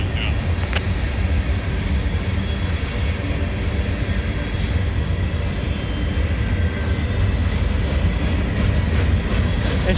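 A freight train passes close by at Canal Ridge Road, giving a loud, continuous low rumble and rolling drone that stays steady for the whole stretch.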